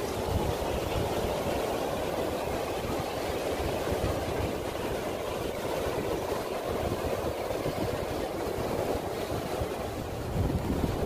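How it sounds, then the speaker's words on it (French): Steady surf on Le Goulet beach rolls in a continuous wash, with heavy wind buffeting the microphone throughout and no voices. "On s'en va marcher notre 3 km sur le bord de la plage Le Goulet."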